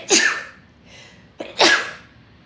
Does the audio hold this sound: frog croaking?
no